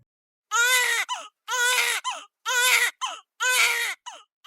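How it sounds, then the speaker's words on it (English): A baby cries close up in four loud, evenly spaced wails, each ending in a short catching sob, with silence before the first. "the sound of that baby crying means it's time for this week's segment of Birth It Up Babies"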